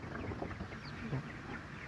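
Tiger chickens cluck softly in a few brief, scattered calls over a faint background hum, quiet and somewhat distant.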